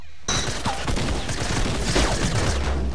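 Suppressed SMG fire in the video game Fortnite, a rapid dense stream of muffled shots starting abruptly and continuing without pause, loud and close.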